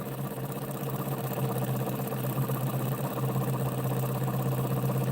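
A homemade pulse motor spins steadily up toward 1,000 RPM, giving a continuous close-up mechanical hum with a strong low tone that holds through the whole stretch, and no voices.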